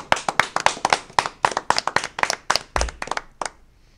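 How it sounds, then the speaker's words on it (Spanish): An audience claps for an invited guest at a government health event, a short burst of sharp close handclaps that thins out and stops after a few seconds. "Un aplauso para ella"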